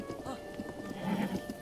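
Horse hooves clip-clopping in a steady trot with a whinny in The Legend of Zelda: Breath of the Wild, fairly close and continuous alongside game music, with a voice talking over parts of it.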